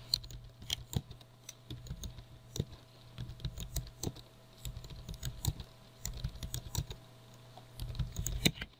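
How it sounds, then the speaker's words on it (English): Fingers tap out bursts of quick keystrokes on a computer keyboard, with brief pauses between runs of close, light clicking. "So I'm just going to type those in right here."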